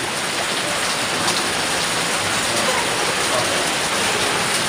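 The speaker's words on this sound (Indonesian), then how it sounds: "di sini itu suasana bakar sate di suasana hujan yang sangat" Heavy rain pours steadily during outdoor satay grilling for a village celebration feast in Sumedang, a dense, continuous hiss of drops on surfaces with no break across the whole stretch.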